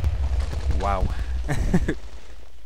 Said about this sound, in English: let's check out the fireworks